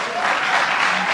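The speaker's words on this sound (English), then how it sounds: "Listen to them cheer." A crowd cheers and applauds at a political event, a dense, steady wash of clapping and voices that fills the whole short moment at close, loud level.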